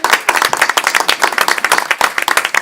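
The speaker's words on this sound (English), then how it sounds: "Can I get an applause?" Audience applause at a presentation in the Bronx, New York, with distinct individual claps audible in a quick, uneven rhythm from a modest crowd, close and lively for under three seconds.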